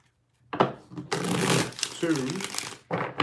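Papery riffling and crinkling bursts of tarot cards being shuffled, close up, with short gaps between them.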